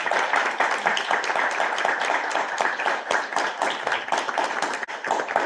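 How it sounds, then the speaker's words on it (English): Sustained applause from a seated audience at a school board meeting, dense steady clapping that fills the room without pause. "So first of all, a round of applause for Ms. Dietrich."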